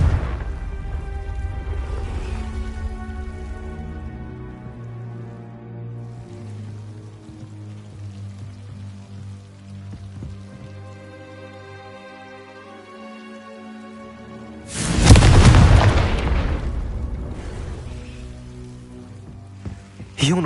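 A Confringo explosive spell cast in Hogwarts Legacy, a sudden loud burst of crackling blast noise about three-quarters through, decaying over a couple of seconds amid low game ambience and music tones.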